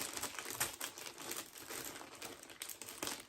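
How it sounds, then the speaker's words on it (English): An Amazon plastic shipping bag is cut open with scissors, giving close, continuous crinkling and rustling of the plastic throughout, with no talking. "I have my trusty scissors here, so I'm gonna open the bag first."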